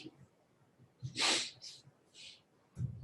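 A single sharp sneeze bursts out close by, followed by a softer exhale and a brief sniff, with quiet room noise around it.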